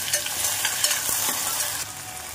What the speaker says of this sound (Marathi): कांदा छान परतून घेऊया आपण, गुलाबी होईपर्यंत। आता त्याच्यामध्ये एक टोमॅटो बारीक चिरून घेतलेलं ते घालूया।